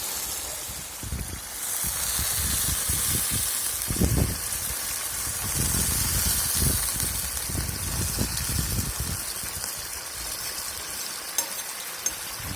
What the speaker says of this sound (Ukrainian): Додали водички.